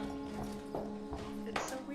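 Horse hooves clip-clop softly in a scene from The Last of Us, a few spaced, muffled steps under a low steady background hum, faint and somewhat distant.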